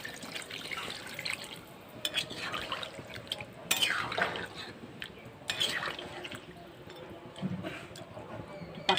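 Water poured into cooked, browned chicken curry in a pot, giving a steady splashing and bubbling wash with sizzling bursts, close by, while a voice talks faintly underneath.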